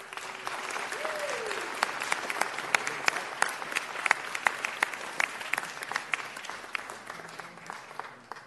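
Applause at a city council meeting honoring a boys' team that won a Division III city championship, steady hand clapping with sharp individual claps standing out, moderately loud and continuous for several seconds without talk.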